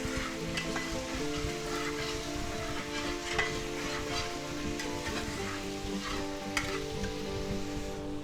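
A pan deglazed with white wine for a chicken and vegetable stir-fry hisses in a constant close sizzle, broken by sharp clicks and scrapes as the contents are stirred around, with no talking.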